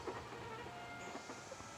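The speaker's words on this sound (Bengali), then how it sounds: "এবার দেখি ট্রেনটা লঞ্চ করে।" A train launches in a train-building video game, giving a steady rumbling roll with faint rhythmic clatter throughout, with no one talking.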